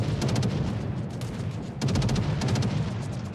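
Naval guns firing shells in a ranked naval combat video game, a rapid series of sharp, loud salvo blasts in two bursts over a constant low rumble, with no talk.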